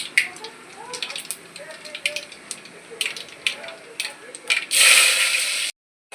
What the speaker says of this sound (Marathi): त्यामध्ये घालायचं आहे पहिले मोहरी, ज्याला राई म्हणतो,